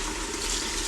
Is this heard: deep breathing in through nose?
no